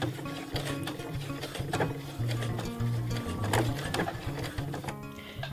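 A sewing machine with a zigzag foot stitches slowly along a fabric edge, a close mechanical whirring with a rhythmic low needle thump that starts and stops in short runs.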